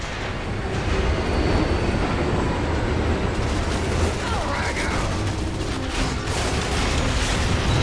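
In Gears of War 3, a moving train rumbles and clatters steadily with rhythmic metallic clacking and mechanical rattling throughout, loud and close, with faint voices speaking underneath.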